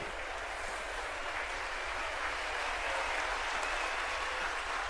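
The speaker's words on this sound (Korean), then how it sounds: "아 박수치네" In-game crowd applause from the video game Puppeteer: a steady, even wash of clapping held at one level throughout, fairly soft and distant in tone, with no talking over it.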